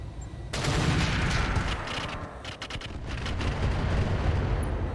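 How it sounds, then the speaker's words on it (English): LBX autocannons fire in cluster mode in the mech game RogueTech, a sudden dense roar of rapid overlapping blasts that rolls on for several seconds, loud and unbroken, with no talking. "we're going to fire the LBXs in cluster mode"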